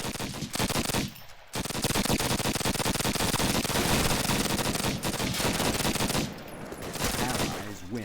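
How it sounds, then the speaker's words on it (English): Rapid automatic gunfire fills a first-person shooter match, loud, dense bursts running almost continuously with two brief pauses between volleys. "Bullets whizzing around in Karma to take down Voodoo"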